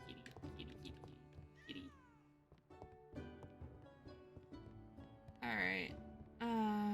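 A chubby house cat meows several times, short distinct calls rising and falling over a quiet background with soft musical tones from a game, the last two meows louder and closer.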